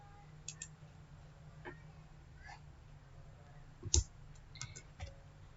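A computer mouse clicks a few times in quiet, sparse and close, with a sharper click near the middle and no talking.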